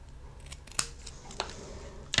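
Scissors snipping out a small paper fence piece for a garden-themed papercraft project, giving a few sharp, close cuts spaced about half a second apart with quiet rustling between them.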